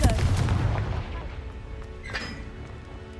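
A Confringo fire spell blast from the video game Hogwarts Legacy bursts in loud and close at the start, then its boom fades into a rumbling tail with a brief crackle near the end.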